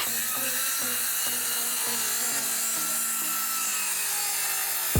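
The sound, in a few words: corded circular saw cutting a wooden board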